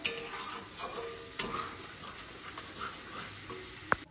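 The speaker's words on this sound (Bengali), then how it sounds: "ওই উচ্ছেটা কড়া কড়া করে ভাজা হচ্ছে" Bitter gourd slices fry crisp in a pan with a steady close sizzle, broken by a few stirring scrapes and one sharp utensil clink near the end.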